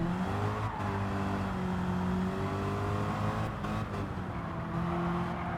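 A 1970 Plymouth Superbird with a swapped engine revs in a racing video game, its harmonic engine whine rising and falling steadily throughout, with no talk.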